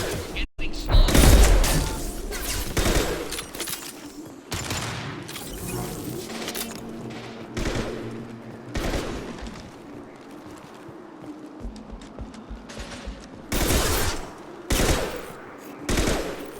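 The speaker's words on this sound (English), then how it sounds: "Firing an impact shot!" Impact shot weapon fire in Mass Effect 2, several loud booming blasts spaced irregularly among rapid gunfire and battle noise, with voices talking throughout.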